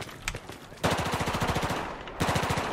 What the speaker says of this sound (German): Von wo schießen die hier drüben bitte?